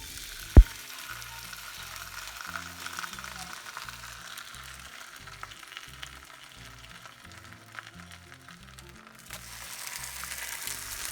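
Corn tortillas dipped in birria broth fry in a pan with a little oil, giving a steady low sizzle and crackle with a sharp clack near the start, while soft background music plays underneath.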